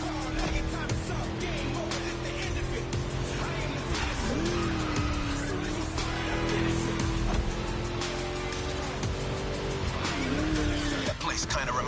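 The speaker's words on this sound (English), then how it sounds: "Just listen to that V8, like a chunky, down-tuned guitar riff." A V8 engine roaring in the video game The Crew Motorfest, a loud sustained drone with pitch rising and dipping through gear changes, with tire squeal and talk running over it.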